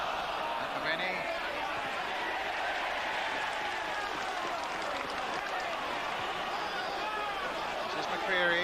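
A packed St James's Park football crowd at a 1986/87 First Division match between Newcastle United and West Ham United, roaring and chanting in a steady, dense wall of noise with a commentator's voice running over it.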